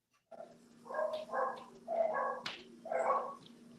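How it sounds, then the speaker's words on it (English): Dogs bark in a handful of short bursts at moderate distance, with a steady low hum running underneath and no talking over them. "I hear the dogs."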